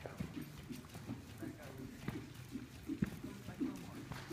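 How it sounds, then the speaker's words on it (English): A horse trots at a normal pace during a riding lesson, its hooves beating a regular clip-clop rhythm at moderate distance, with faint background noise and a voice now and then. "Let's go normal trot."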